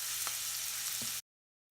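Chopped medium onion frying in a pan for black chana masala, a steady broadband sizzle with a couple of soft utensil taps, cutting off abruptly into silence after about a second.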